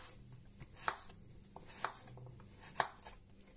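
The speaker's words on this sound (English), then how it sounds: "So let's slice these up." Knife slicing garlic cloves on a board, a few faint, soft cuts spaced about a second apart, quiet and close with no talking.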